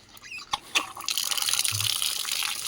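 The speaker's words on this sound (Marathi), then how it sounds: "हात पाय धुवून घेतो" Water splashing and pouring while muddy hands and feet are washed, a few drips and knocks at first, then a steady close splashing flow.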